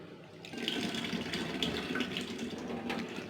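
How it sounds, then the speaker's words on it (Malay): Running tap water splashes steadily over peanuts being rinsed in a bowl for nasi lemak, a continuous close, moderately loud gush with slight fluctuations and no talking. "Saya basuh kacang ni sikit."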